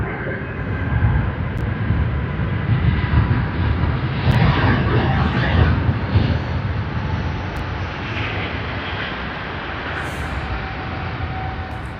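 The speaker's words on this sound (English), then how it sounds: "Boeing 777-300ER, service to Los Angeles, California." A Boeing 777-300ER airliner at Sydney Airport produces a broad, loud engine roar that swells and then slowly eases off, heard from a distance as a steady rushing drone.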